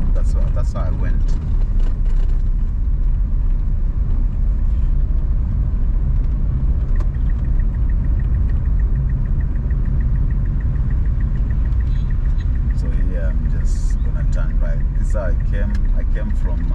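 Cars drive along Raila Odinga Way in Nairobi, Kenya, a steady loud road rumble of engines and passing traffic heard from inside a vehicle, with someone talking over it throughout.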